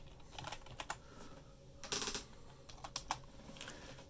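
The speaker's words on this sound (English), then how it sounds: "So I just typed in Battletoads" Bursts of typing on a computer keyboard, entering a game name into a search, with irregular clusters of clicks separated by short pauses, close and alone.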